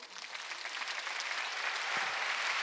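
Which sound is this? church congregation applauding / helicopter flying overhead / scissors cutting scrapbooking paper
church congregation applauding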